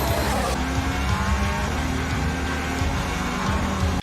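A Formula One race car driven by Verstappen roars past at full speed, its engine note loud and continuous with shifting pitch as the car takes a corner, with crowd and track noise behind.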